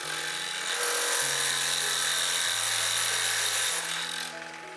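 An ALLSOME BG-516809 drill press motor whines steadily while a Forstner bit grinds and rasps into wood, the tone stepping in pitch as it cuts, then winding down.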